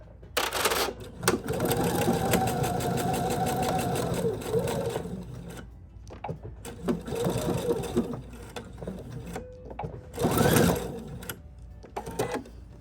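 A sewing machine runs a straight seam on fabric for a stuffed toy, with a long steady run, a pause, then shorter bursts that suggest backstitching at the ends, heard close up.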